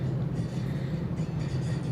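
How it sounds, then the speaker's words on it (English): A steady low rumble with a humming drone, consistent with a train rolling past at some distance, continuous and moderately loud throughout. "That's a train."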